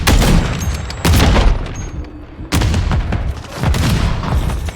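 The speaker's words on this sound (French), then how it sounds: "ça tire de tous les côtés" Gunfire erupts from all sides in Call of Duty Modern Warfare 3, loud overlapping bursts and booming shots in quick irregular clusters with brief lulls between them.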